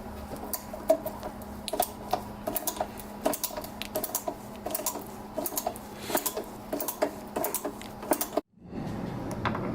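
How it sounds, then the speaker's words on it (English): A tap re-cuts bolt threads in a Datsun Z engine bay: a quick, irregular series of small metallic clicks and ticks with a steady hum beneath, then a brief drop to silence before a low background returns. "So now all that's left to do is to re-tap the threads"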